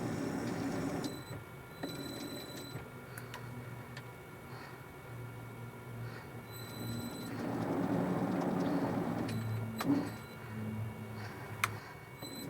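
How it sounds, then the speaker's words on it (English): A lathe cuts a 1mm pitch thread on the end of a metal part, a quiet steady motor drone with faint ticking and a slight swell in the cutting noise partway through. "I'm just cutting a 1mm pitch thread on the end of part 1, and this will fit into part 2."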